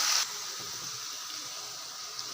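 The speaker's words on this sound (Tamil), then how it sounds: "தண்ணி கழுவியும் ஊற்றிக்கலாம்" Water poured from a rinsed vessel into a pan of garlic chutney made with tomatoes for idli and dosa, a brief splashing gush at the start followed by a steady soft wash of liquid.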